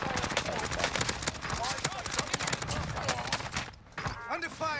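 Rapid automatic gunfire in Call of Duty Warzone on Rebirth Island, loud dense bursts of shots stacked close together with a brief gap near the end, while a voice talks over the fighting.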